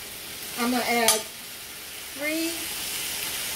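Chicken searing in a pan, a steady faint sizzle running under a voice as she talks.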